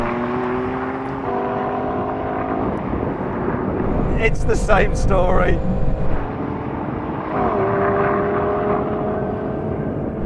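A BMW M2 CS engine revs hard in a drag race against an AMG A45 S and Audi RS3, its droning note rising in steps through the gears, loud and close, with a voice talking over it.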